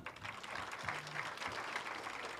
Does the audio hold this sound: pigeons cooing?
no